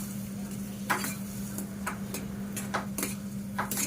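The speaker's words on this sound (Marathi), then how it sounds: "आता या शिऱ्याला थोडस आपल्याला हाताने फिरवून घ्यायचं म्हणजे चम्मचच्या मदतीने" A spoon stirs jaggery sheera in a kadhai, giving soft scraping strokes and a few sharper clinks against the pan, spaced irregularly over a steady low hum.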